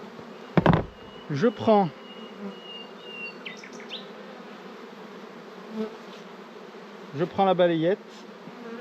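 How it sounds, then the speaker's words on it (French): Honeybees buzz steadily around a frame lifted from a hive during queen rearing, a close continuous drone with brief brushing and handling knocks, and someone speaks briefly over it. "je vais balayer légèrement les abeilles"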